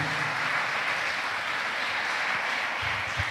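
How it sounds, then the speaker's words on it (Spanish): A church congregation applauds during a sermon, a broad steady wash of clapping hands filling the room at constant loudness, with no voices standing out. "denle el aplauso al Señor"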